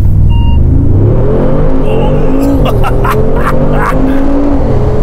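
Mercedes-AMG G63 under full acceleration from a standstill, a loud, close, continuous engine roar rising in pitch, with faint voices under it.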